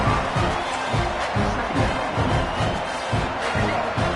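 Stadium crowd at a college football game between East Carolina and Florida State, a steady broad roar of cheering and noise that swells in waves, loud and continuous with no clear talk over it.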